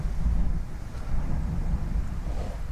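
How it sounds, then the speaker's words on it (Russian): Strong wind blasts outdoors as rain begins and dust rises, a heavy low rumbling buffet against the microphone that surges and eases in gusts. "Вон, слышно, какой ветер."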